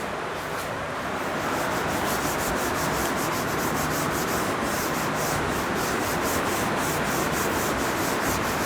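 An object is rubbed by hand in a steady, continuous scrape that runs close and fairly loud for the whole stretch, with no talking.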